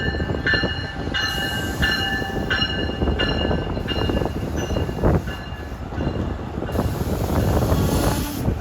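A Long Island Rail Road summer Montauk train, number 15, with a long consist, rumbles steadily nearby as a continuous loud rolling roar, with repeated high tonal tones sounding at intervals and no talk.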